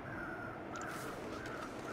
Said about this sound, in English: Birds over there?